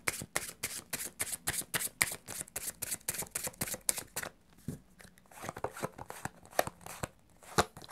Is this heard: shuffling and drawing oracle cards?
yes